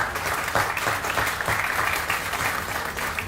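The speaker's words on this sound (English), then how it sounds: "I would like to give you a round of applause, and you can applaud each other" An audience at a student arts awards event claps steadily and loudly for several seconds, a dense, even wash of applause with no pause.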